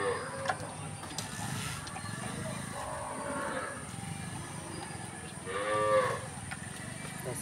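Cows mooing at a temple cow shelter, with a drawn-out low moo early on and a louder, nearer moo around the sixth second, over steady outdoor background noise.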